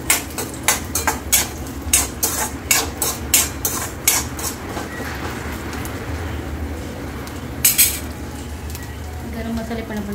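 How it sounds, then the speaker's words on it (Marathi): Coconut roasting in oil in a pan sizzles steadily while a metal spoon scrapes and clatters rhythmically against the pan at first, then the stirring eases off and the frying hiss continues, fairly close and loud. "खोबरं पण भाजायला लागतं"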